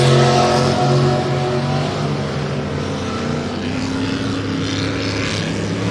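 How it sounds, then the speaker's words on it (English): Off-road racing vehicle engine at a racing event, a steady loud engine drone with sustained rev throughout, mid-distance and continuous with no talk over it. "I hear horsepower, and here comes Chip McLaughlin"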